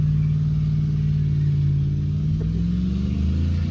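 Engine of a 1972 Corvette holds a steady, loud rumbling rev close by, then climbs in pitch as the car pulls away in an attempted burnout, with no voices.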